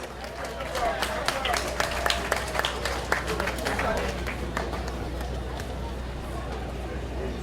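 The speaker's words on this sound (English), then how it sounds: "Give a round of applause for the Linden talent performed here tonight." Audience applause for local talent who performed at a party anniversary event in Linden: scattered, sharp claps over a murmuring crowd and a low steady hum, loudest early and thinning toward the end.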